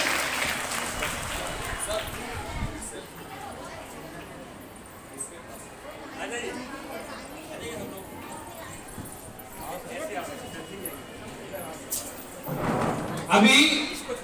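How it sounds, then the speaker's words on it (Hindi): Audience clapping at a school cultural programme for Independence Day at a girls' school, moderate scattered applause under background chatter and a speaker's voice, swelling louder near the end. "तालियों से सभी का स्वागत करें।"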